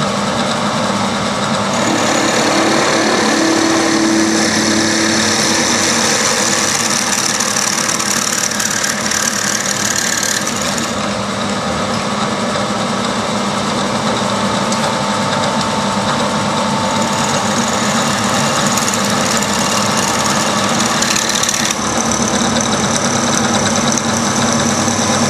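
A drilling machine runs continuously on its table feed while machining steel, giving a steady mechanical whir and grinding drone with shifts in tone partway through, loud and close with no voices.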